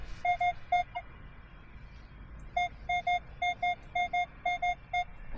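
A metal detector sweeping over a deep coin in a public park gives clear, evenly pitched beeps, first a few quick tones, then a pause, then a longer run of repeated double beeps over low background rumble.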